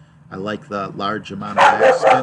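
Dogs bark in several quick, harmonic yips and bow-wows close by, layered with someone talking over them.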